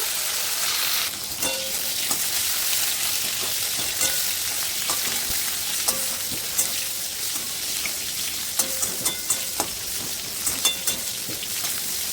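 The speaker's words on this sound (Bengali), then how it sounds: "উচ্ছেগুলো ভালো করে ভেজে নেব।" Slices of bitter gourd fry in hot oil with a steady, dense sizzle and crackle, broken now and then by sharp spatters and the clink of a spatula stirring the pan, with no talking.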